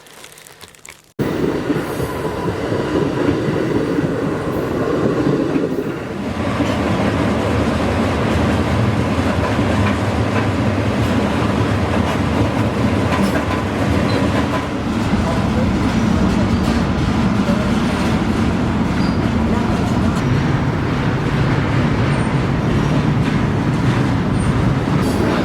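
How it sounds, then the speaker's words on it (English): A long freight train rumbles past close by, a steady heavy roar of rolling cars with clattering wheels and occasional metallic squeals. "Another train come and gone."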